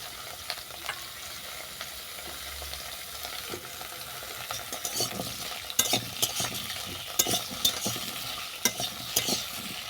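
Radish and carrot lightly frying in a pan for a bread salad, a soft steady sizzle with intermittent scraping and stirring clatter that grows busier toward the end, close by.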